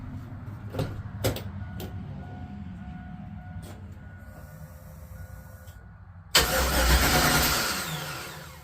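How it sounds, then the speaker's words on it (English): A Chevrolet S10 pickup with a swapped-in 6.0 V8 cranks briefly after some clicks and clunks, then catches and roars loudly to life, settling into a strong, close idle. "I'm going to fire it up, see what she sounds like."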